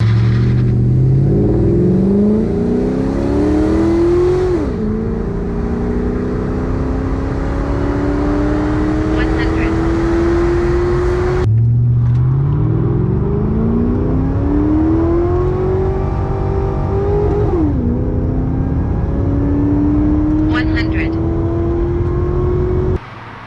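Jeep WK SUV fitted with a Black Ops performance exhaust revving up twice in long, loud accelerating pulls, the engine note climbing steadily before each shift-like drop, close by and continuous with no talking.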